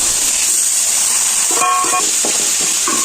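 Onions with ginger paste and tomato frying in a pan, a steady bright sizzle with a few scraping stirs toward the end.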